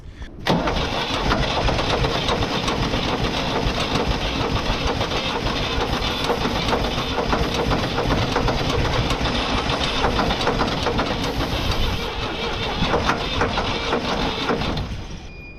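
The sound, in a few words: engine starting and idling, jump-started with a jump pack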